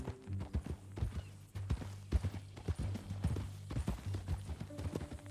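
Horse hooves clip-clop in a steady, uneven rhythm in the video game Red Dead Redemption II, fairly close, with a low droning tone running underneath.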